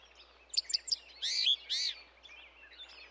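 A cartoon bird chirps on a branch: a quick run of three bright tweets followed by two longer warbling calls, clear and alone over near silence.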